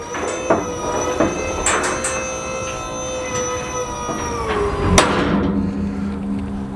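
Hydraulic spring-assisted ramps on a gooseneck trailer lower smoothly with a steady mechanical whine and a gliding tone, broken by a few metallic knocks and ending in a firm clunk as they settle, without slamming.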